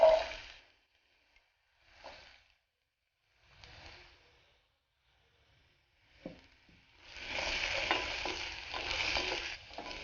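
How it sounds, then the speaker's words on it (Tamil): Radish pieces sautéing in a pan, sizzling and stirred in short soft bursts before a longer, steadier sizzle with scraping stirs; moderately close and fairly quiet. "இது வந்து முள்ளங்கியை வதக்கிறதுக்காக இல்லையா?"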